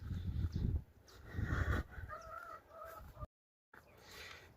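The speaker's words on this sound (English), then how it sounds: "Let's go feed the chickens." Chickens at a South African homestead chicken farm cluck and call in short overlapping bursts near the microphone, with a brief silent gap near the end.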